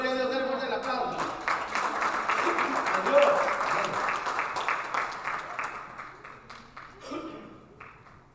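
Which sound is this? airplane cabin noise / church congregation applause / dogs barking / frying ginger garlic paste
church congregation applause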